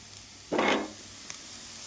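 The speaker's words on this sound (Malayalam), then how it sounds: "ഇങ്ങനെ ചിക്കി ചിക്കി ഇട്ട് വേവിക്കുകയാണ്" Grated drumstick pulp thoran cooks in a pan with a sudden burst of scraping, sizzling stirring that lasts about a third of a second, then a quieter steady sizzle and one small tap, close by with no talking.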